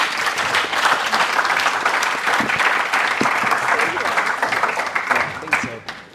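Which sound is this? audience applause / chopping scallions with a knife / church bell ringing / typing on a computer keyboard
audience applause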